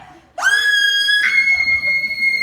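A woman lets out a loud, sustained high-pitched scream that starts suddenly, rises once and holds steady for about two seconds, close and piercing.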